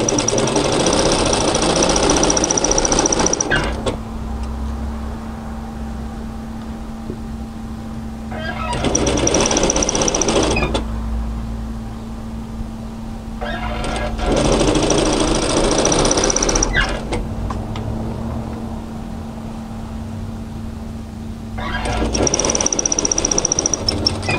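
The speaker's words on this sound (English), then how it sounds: "So we're just going to sew on our bias tape" A sewing machine stitches bias tape onto a camisole in several loud, steady bursts of rapid whirring, each a few seconds long, separated by quieter pauses with a low hum.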